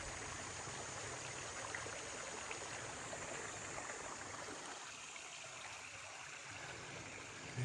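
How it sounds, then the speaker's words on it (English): Brown Mountain Creek along a Blue Ridge Parkway trail in Virginia flows in a steady, continuous rushing wash of water, unbroken and alone throughout, with no voices. "Give you another shot of Brown Mountain Creek. The waters are flowing."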